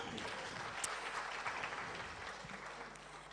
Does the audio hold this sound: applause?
yes